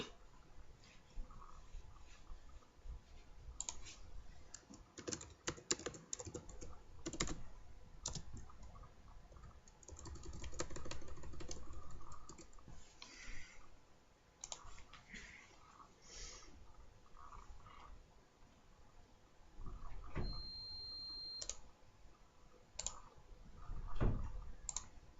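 A computer mouse clicks in sharp, scattered taps during an iOS jailbreak with Snowbreeze, close and fairly quiet against a faint hum, with irregular gaps between bursts.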